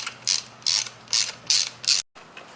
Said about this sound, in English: And we will use a torque wrench for this.